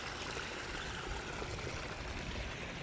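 Irrigation water flowing steadily through a peanut field, a continuous broadband rushing and gurgling that stays even and fairly close throughout, with no talk.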